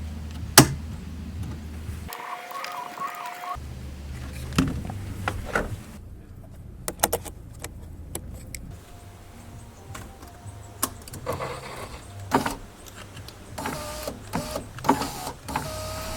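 Electric window motor in a driver's door of a Mk1 Skoda Fabia whirs in a few separate runs as the window is tested, with clicks and knocks from the door between them and no voices.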